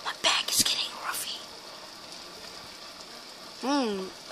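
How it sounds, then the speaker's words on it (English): Steady rain falls in The Last of Us video game, a soft continuous hiss throughout, with a few sharp sounds near the start and a voice speaking briefly near the end. "It's raining, guys."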